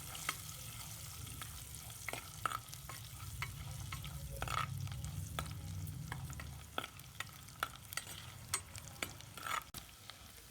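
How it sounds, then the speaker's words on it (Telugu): Garlic pieces frying in a pan for dal khichdi, with a steady low sizzle under repeated sharp clicks and scrapes of stirring, close and moderately loud, no talking. "వెల్లుల్లిపాయలు కూడా 1 నిమిషం పాటు వేయించుకోవాలండి."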